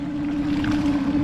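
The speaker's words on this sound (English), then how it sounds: "So while the engine warms up, I'm going to let that electric bilge do its job." A small outboard engine on a 3-metre sea fishing boat idles while warming up, a steady close drone with a strong low hum and constant water and wind wash around it; no talking.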